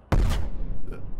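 A cannon blasts in the Brick Rigs video game, a single sharp, loud boom followed by a rumbling decay and a faint secondary crackle.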